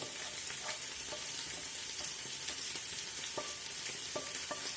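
Chopped onion fries in a pan for a home-cooked dinner of fried potatoes, giving off a steady, even sizzle broken by scattered sharp clicks and scrapes of stirring.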